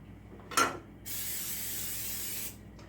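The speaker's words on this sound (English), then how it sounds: "Let me go ahead and spray this pan." Cooking spray on a pan: a short click, then a steady hissing spray lasting about a second and a half, close by and fairly quiet, followed by a faint tap.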